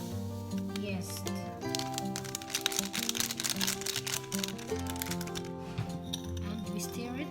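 Sugar and yeast get stirred in a bowl for pandesal, with steady light clinks and scrapes of a utensil against the bowl going on under people talking nearby.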